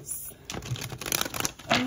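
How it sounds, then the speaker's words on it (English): A deck of tarot cards is shuffled by hand at close range, with rapid riffling and flicking that grows louder toward the end, and a voice is faintly present. "Let's get two more shuffles for my Libras."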